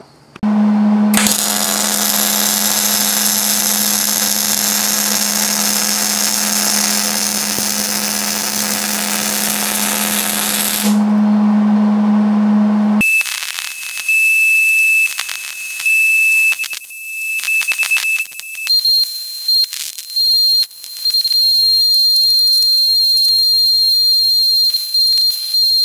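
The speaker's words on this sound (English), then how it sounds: "Alright, so I got that all welded up." Welding on a steel replica of the Diablo 2 Dread Sever axe gives a loud, steady hiss over a low hum that runs for about twelve seconds. Thinner whining tones follow, with no voices.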